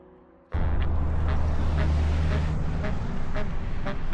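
Traffic on a main road in Iceland rushes past close by in a loud, steady roar after a sudden onset, with wind buffeting throughout.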